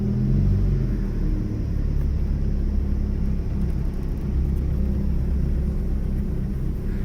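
A 1988 Honda Civic DX with a 5-speed manual gearbox is heard from inside the car as it is driven slowly and parked. A steady low engine and road rumble continues throughout, with no talking.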